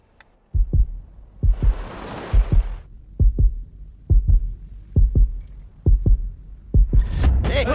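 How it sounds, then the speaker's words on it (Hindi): A heartbeat sound effect in a Hindi-dubbed movie thumps in steady double beats, deep and prominent, broken briefly by a whooshing swell and ending under rising noise. "मेरा दिल और तेजी से धड़कने लगा।"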